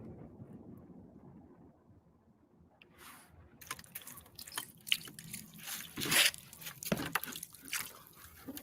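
Water splashes and drips off a white stone, with a quiet stretch followed by irregular splattering and sharp drip bursts, close to the microphone and with some wind noise.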